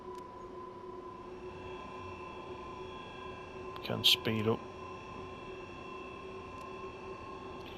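A BR187 electric locomotive hauling heavy freight in Train Sim World 3 hums with a steady tonal whine and rumble, a brief louder burst of sound rising midway, while someone talks over it.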